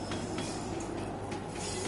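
A train in the Call of Duty video game rumbles steadily as a continuous, fairly loud rolling noise with faint rail clatter and hiss throughout.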